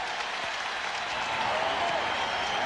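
Basketball arena crowd at a 1994 Knicks at Pacers playoff game reacting as LaSalle Thompson is substituted out, a steady, swelling roar and applause under a commentator's voice.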